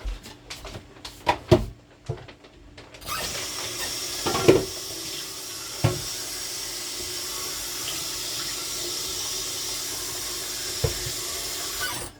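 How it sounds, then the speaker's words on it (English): Water is poured into a pot while cooking sauerkraut for lunch, making a sustained splashing, hissing flow after a few clattering knocks of kitchenware at the start. "I'm gonna pour a little bit of water in here."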